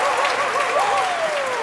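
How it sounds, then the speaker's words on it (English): A cheering crowd sound effect in a farming video game: broad, dense applause and cheers that hold steady and fairly loud across the short moment, with no talking. "Cue cheering crowd."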